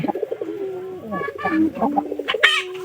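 A pigeon coos close by in a series of soft, throaty rolling calls, clear against a quiet background.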